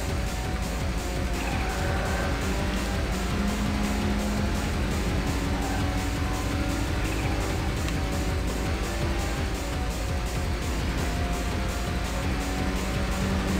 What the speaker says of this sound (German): Ich höre den Motor.